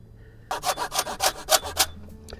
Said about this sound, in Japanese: 元口の方を必ず節のとこを斜めに切って